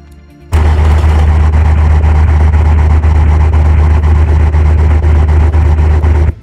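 A large car engine fed by a single-barrel carburetor in the Automation racing game starts abruptly and holds a loud, deep, steady drone near full throttle, with no talking over it.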